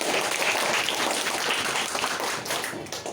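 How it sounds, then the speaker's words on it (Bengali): A class of fifth-grade students claps loudly together in a classroom, a dense, continuous burst of applause that tapers slightly at the end. "সবাই একটা তালি দিয়ে দাও জোরে।"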